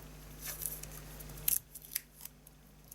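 A strip of washi tape torn off its roll for a papercraft card, with a short crisp rip near the middle, quiet ticks and rustles around it, close and alone.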